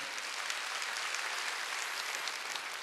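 Faint, soft clapping from a church congregation during a Korean Wednesday evening worship service, a thin, even patter that sounds distant and stays low throughout.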